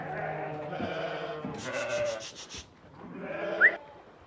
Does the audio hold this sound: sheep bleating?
yes